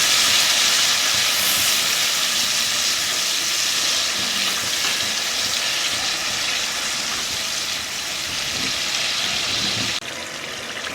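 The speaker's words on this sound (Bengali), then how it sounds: "এর মধ্যে দিয়ে দেব 1 বাটি জল। আবারও আমি খুব ভালো করে নেড়ে দেবো।" A fish curry spice mixture thinned with a bowl of water is stirred in a pan for tel koi, giving a loud, continuous sizzling hiss with scraping and stirring underneath.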